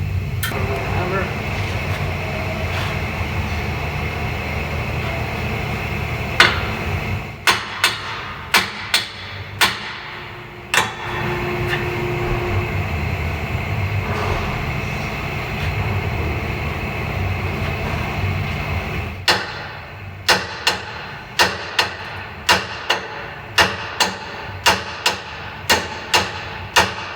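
A hammer striking a Ram 1500 front axle shaft during removal, with a steady drone of background noise under isolated sharp metallic clangs early on, then a fast series of loud, evenly spaced blows near the end.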